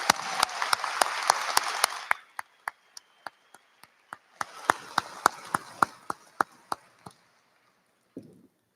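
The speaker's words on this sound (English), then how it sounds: "let's thank these people by giving them a large round of applause" Audience applause at a 2024 high school graduation ceremony, with a crowd clapping in a hall as the sound thins out into a few sharp, isolated claps before a second swell of applause fades away.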